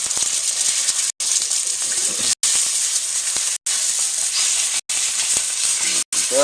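An egg sizzles loudly in a hot frying pan for fried rice, a constant close hiss broken by a few brief near-silent gaps.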